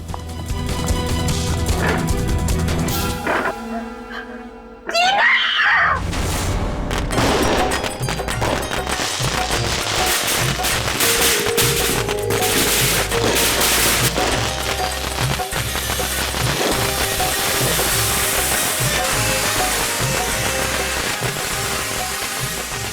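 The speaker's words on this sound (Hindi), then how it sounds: "तू पटाखे चला के एकदम से भाग जाना" Firecrackers set off outdoors near the India border go off in a dense, continuous barrage of loud cracks and booms, with a brief lull around five seconds before the rapid popping resumes and runs on steadily to the end.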